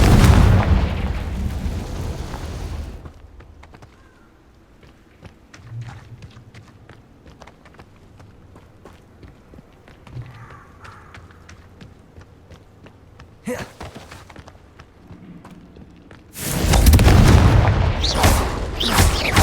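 Deep booming blasts of the Confringo fire spell in Hogwarts Legacy, one at the start and a heavier rumbling one near the end, with quieter footsteps and game effects in between.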